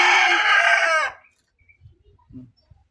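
A loud rooster crow rings out up close for about a second, then fades into quiet with a few soft clucks.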